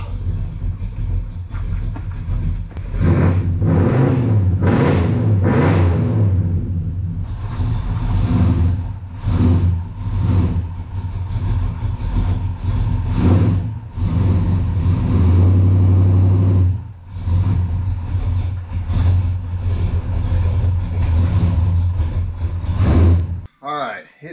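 A Chevrolet C10 hot rod engine revs and settles into a choppy, lumpy cam idle, loud and close, with someone talking over it at times.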